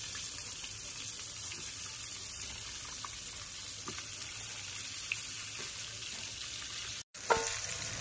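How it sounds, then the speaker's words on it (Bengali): Pointed gourd (potol) fries in oil in a pan, giving a soft, continuous sizzle and crackle that stays steady and fairly quiet throughout, with no one speaking. "পটল ভাজা হচ্ছে।"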